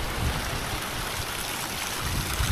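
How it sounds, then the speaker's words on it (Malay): A waterfall at Teluk Akuan, Malaysia, pours into a clear-water river, giving a continuous dense rushing roar that stays steady and fairly close throughout. "air terjun masih ada lagi dan air dia masih jernih lagi"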